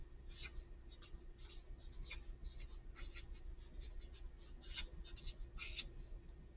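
Steady pen or marker strokes while taking notes in a writing journal, a continuous run of short scratchy strokes and taps close by, with no talk.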